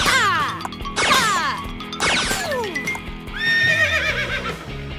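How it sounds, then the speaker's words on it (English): A cartoon pony neighs and whinnies several times in loud, descending bursts, with clip-clopping hooves and rustling action mixed in throughout. "Giddy up, pony!"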